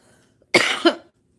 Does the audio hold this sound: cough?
yes